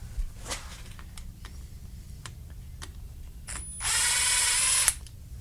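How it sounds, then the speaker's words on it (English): 7mm bolts come out of the carburetor bowl of a Briggs and Stratton 550EX lawn mower, with scattered close clicks and ticks of metal. A short, louder burst of power-tool whir follows near the end. "Pull these 2 bolts out of the bottom of the bowl."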